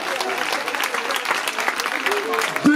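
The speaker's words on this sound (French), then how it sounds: "C'était applaudissements pour Clara Martin." A crowd at a women's pink charity event applauds for Clara Martin, with continuous dense clapping under voices, a whistle-like tone and talk near the end.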